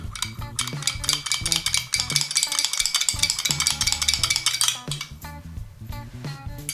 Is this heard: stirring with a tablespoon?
yes